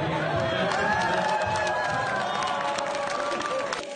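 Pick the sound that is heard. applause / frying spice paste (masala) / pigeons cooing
applause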